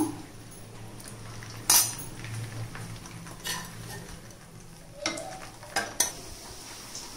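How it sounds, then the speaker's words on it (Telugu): Chicken pieces for chicken pickle frying in hot oil, a continuous soft sizzle under scraping and clinking of a spoon or ladle against the pan, with a few sharp metallic knocks, close and without talking. "ఇదిగోండి నూనె కాగింది ఇలా వేసుకుందాము"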